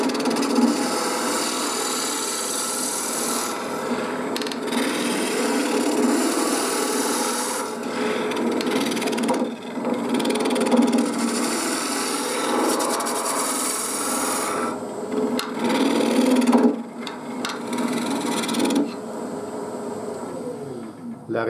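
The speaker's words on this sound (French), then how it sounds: "si on veut poncer ici, il faut déjà commencer à 320 sans problème" A small wooden box being hollowed out gets sanded with fine grit, rough rasping strokes that come in bursts with short pauses between them, up close and fairly loud.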